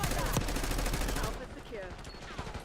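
Gunfire in a Call of Duty match, with a sharp shot, then dense rapid bursts that cut off abruptly into quieter game noise, with no talk.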